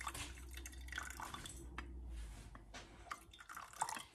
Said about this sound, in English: You're going to get some hot water going in there so it activates that saffron.